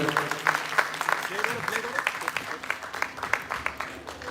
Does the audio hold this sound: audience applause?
yes